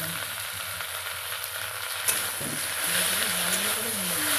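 Leafy greens fry in a pan after onion and garlic, a steady close sizzling hiss with a brief stirring knock midway.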